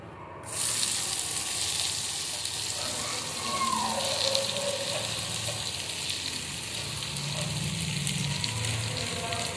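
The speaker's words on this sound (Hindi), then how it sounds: "तो इन सारी सब्जी को एक साथ घी में पकाएंगे।" Mixed vegetables for sabudana khichdi frying in ghee start with a sudden loud sizzle that settles into a steady, dense hiss throughout, with no talking.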